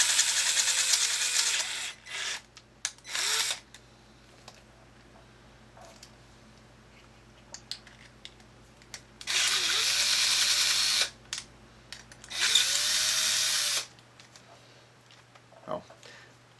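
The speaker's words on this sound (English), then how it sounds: "So I'm using a 1/4 inch bit." A power drill fitted with a 1/4 inch bit runs in several short bursts with light pressure while repairing squeaky Thrustmaster pedals, separated by quiet gaps; a voice speaks quietly between bursts.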